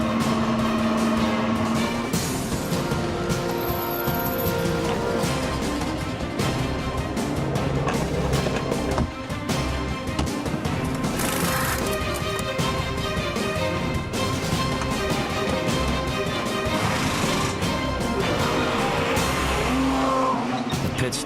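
An Audi race car in a 24-hour endurance race, engine loud and continuous with tire squeal and passing traffic, under a dense wash of music and voices, as it comes into the pit lane.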